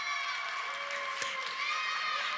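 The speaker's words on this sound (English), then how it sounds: "A big round of applause for Wild Wing as well." A crowd at an Anaheim Olympic and Paralympic farewell fan fest cheers and applauds for the mascot Wild Wing, a sustained loud wash of shouts and whoops with clapping underneath.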